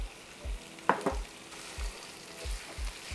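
Chorizo and spicy Italian sausage, removed from the casing, frying in a pan while being broken up, with a soft steady sizzle and a rhythmic series of low scraping taps from the utensil, plus a couple of sharper clicks.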